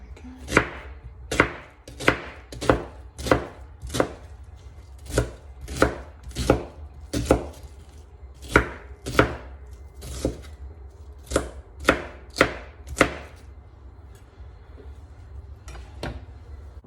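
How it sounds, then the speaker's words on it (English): A knife chops onion on a board in about sixteen crisp, evenly spaced strokes, close and clear. The chopping stops briefly near the end, then one last cut lands. "the last thing I'm going to chop up is the onion"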